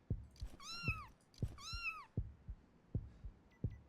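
A cat meows twice, clear and close, with rhythmic soft thumps beating steadily beneath in an otherwise quiet room.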